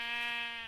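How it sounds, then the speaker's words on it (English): A single sheep bleat in the Minecraft video game, a short, clear, nasal tone lasting under a second, close and alone. "Oh, sheep!"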